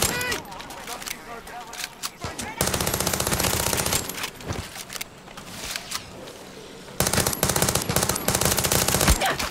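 A gun in Far Cry 6 rattles off several loud, rapid automatic bursts separated by brief gaps, close and harsh, with someone talking over parts of the gunfire.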